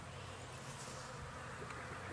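Honey bees buzzing densely around a hive entrance during oxalic acid vapour treatment, a continuous, close, loud swarm drone with no voices.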